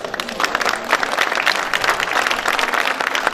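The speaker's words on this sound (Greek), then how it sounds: "Το χειροκρότημα νομίζω ότι είναι μια ένδειξη ότι έγινε αντιληπτό αυτό το οποίο είπα" An audience at an outdoor dance association event in Aidipsos applauds with steady, dense clapping from many hands at moderate distance that carries on throughout.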